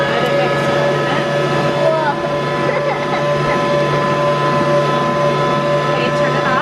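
An electric hand mixer runs steadily on a low setting, churning homemade play-dough in a bowl, with a continuous motor hum and harmonic whine throughout while voices talk over it.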